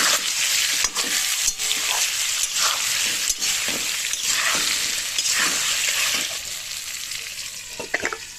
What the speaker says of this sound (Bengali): এবার দিয়ে দিলাম আলুগুলো আলুগুলো ভালো করে লবণ আর হলুদ দিয়ে একইভাবে ভেজে নেব